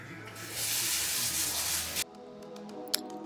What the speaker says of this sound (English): spraying down their counters with all-purpose spray